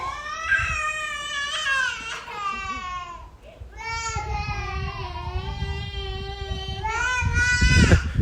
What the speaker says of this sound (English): And you can hear the kids crying.